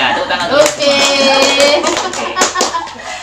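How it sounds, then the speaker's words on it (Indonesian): A group in a classroom lecture on child protection claps briefly, a burst of hand claps mixed with voices talking over it. "Ya, tepuk tangan."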